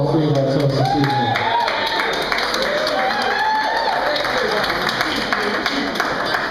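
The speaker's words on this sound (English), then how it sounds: "let's give one big round of applause for all three of our toasts this evening" Wedding guests applauding after the toasts: continuous clapping from a room full of people, steady and fairly loud, with voices talking and calling out over the applause throughout.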